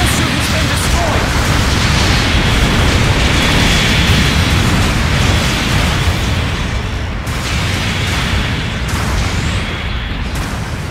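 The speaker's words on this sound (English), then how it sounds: "Your mobile suit has been destroyed" A mobile suit blows up in Gundam Battle Operation 2, a loud, sustained rumbling explosion with crackling bursts and scattered debris pops that slowly tapers off.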